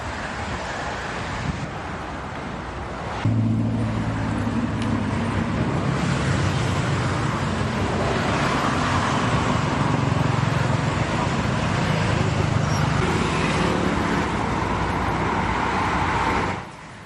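Heavy holiday traffic crawls along the Cikampek toll road on a Saturday evening during the Waisak long weekend: a steady, dense roadway rumble with wind noise, continuous and fairly loud for the whole stretch before cutting off abruptly.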